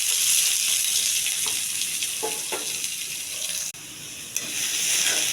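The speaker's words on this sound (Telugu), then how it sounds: "ఉల్లిపాయ కొద్ది దోరగా వేగాలండి." Onions frying in hot tempering oil with urad dal, cumin and mustard seeds: a close, steady sizzle and hiss, with a brief dip and a small clatter partway through, no talking.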